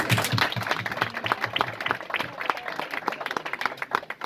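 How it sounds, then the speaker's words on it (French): Applause at a Texas Hold'em poker tournament in Lyon, a dense patter of many hands clapping at close range, fairly loud and steady throughout with slight swells. "Donc déjà moi j'applaudis."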